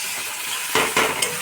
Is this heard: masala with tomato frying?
yes